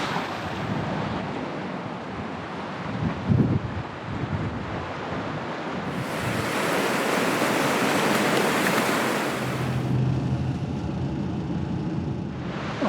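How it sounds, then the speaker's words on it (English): Ocean waves rolling in at a beach near Eden, a steady broadband wash with a louder surge midway, wind buffeting the microphone throughout, no talking. "Good timing, right as the wave's coming in."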